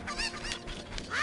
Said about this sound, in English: What you're really supposed to do is get several chickens